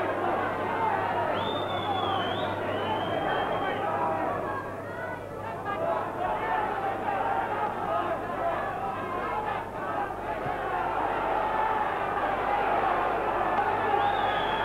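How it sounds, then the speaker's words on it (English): Boxing crowd at Belle Vue cheering two fighters near the end of a bout, a continuous loud roar of voices and shouts that dips briefly midway and builds again. "Just listen to the way this crowd is cheering these two home."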